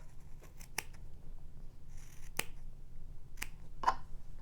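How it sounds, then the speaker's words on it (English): Scissors snip through yarn at the knots on an inkle loom, several sharp separate cuts spaced a second or so apart, close and crisp against a quiet background. "I'm just going to cut up here at my knots. We're just going to cut straight across there."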